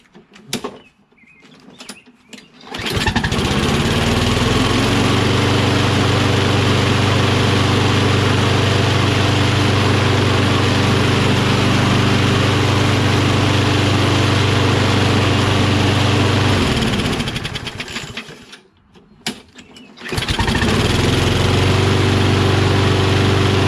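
Kohler-powered Toro Recycler XT675 front self-propelled lawn mower engine running steadily and loud, with a low droning hum, cutting out briefly near the end before picking back up.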